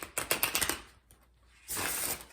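Large, rough-textured tarot cards being shuffled by hand, a quick burst of soft riffling flicks, a brief pause, then a second longer shuffle, close and quiet.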